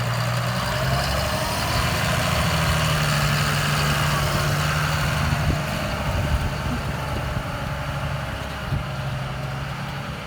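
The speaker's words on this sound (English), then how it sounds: "get in the tractor and take it to our field across the road first to spread" A tractor engine idles steadily on a farm before hauling a load of horse manure to a field, a constant low rumble that continues unchanged throughout with no talking.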